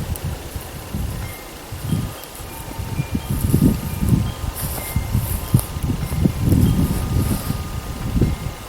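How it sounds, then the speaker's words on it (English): Wind gusting outdoors at a quiet homestead, a steady low rumble with rustling swells that rise and fall throughout, no voices. "No sound right now except for the wind."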